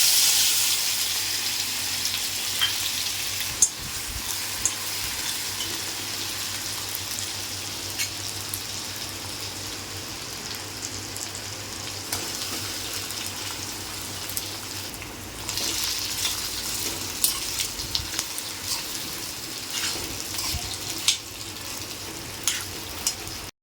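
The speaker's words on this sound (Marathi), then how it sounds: "तर इथे बटाट्याची भाजी मी फोडणीला टाकलेली आहे" Potatoes sizzling in hot oil as they are tempered for a fasting-day potato bhaji, a steady close frying hiss with occasional stirring clinks and crackles, no voices.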